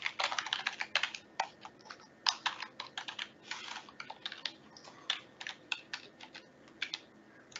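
Rapid typing on a computer keyboard, with dense irregular bursts of clicky keystrokes running throughout, close and fairly quiet, with no voices.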